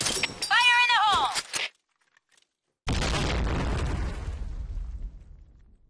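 A grenade goes off in the Brothers in Arms video game, a heavy booming blast with a long rumbling decay after a sharp voice and a brief silence.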